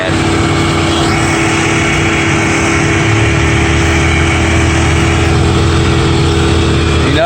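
A logging vehicle's engine runs slowly and steadily at low RPM on a logging road, a loud continuous rumble with no pauses throughout.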